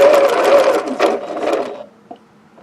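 A sewing machine stitching a paper-pieced log cabin quilt block runs in a close, rapid whir for almost two seconds, then stops, leaving a single soft click.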